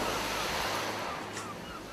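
Ocean waves and gusting wind at a seaside boardwalk make a broad, steady rush, with a low rumble in the wind at first that eases slightly toward the end.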